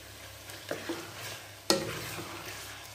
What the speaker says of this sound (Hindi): इन लहसुन और अदरक को दोनों को डाल के इकट्ठा फ्राई करूँगी।